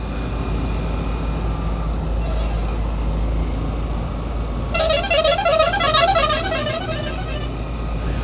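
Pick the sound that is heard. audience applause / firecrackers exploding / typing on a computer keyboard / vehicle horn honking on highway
vehicle horn honking on highway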